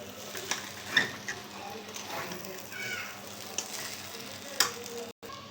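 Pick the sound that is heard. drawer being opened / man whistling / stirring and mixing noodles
stirring and mixing noodles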